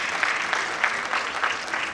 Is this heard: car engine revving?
no